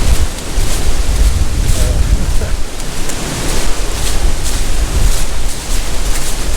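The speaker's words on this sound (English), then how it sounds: "again it's very windy, I'm not sure how much that's going to affect the microphone" Strong wind buffets the microphone on a canal towpath walk along the Grand Union Canal, producing a continuous low rumbling roar with gusty surges throughout.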